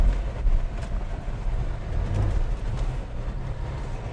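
A Toyota FJ crawls off-road in two-wheel drive, its engine and tires producing a steady low rumble with bumps and rattles throughout, fairly close and without talk.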